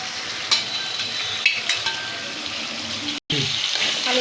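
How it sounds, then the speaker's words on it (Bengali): Potatoes fry with a ground spice paste in a pan for a fish curry, a steady close sizzle with a few stirring scrapes, briefly cut to silence near the end before the sizzle resumes. "আলুটা ভালো করে কষিয়ে নেব"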